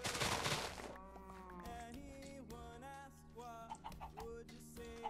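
Chickens clucking in the video game Ancient Warfare 2, a quick run of high, stepped clucks following a brief noisy burst at the start, heard alone with no talk.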